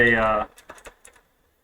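A brief voice at the start, then a short run of a few close, crisp computer keyboard keystrokes in quick succession before falling quiet.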